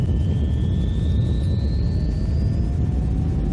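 Boeing 737 jet engines roaring in reverse thrust on landing in the X-Plane flight simulator, a steady broadband rumble with thin rising whine tones, continuous and moderately loud.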